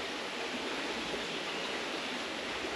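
A creek runs beside a rainy truck campsite, giving a steady, even rush of flowing water that holds without a break, loud and close, with no voices.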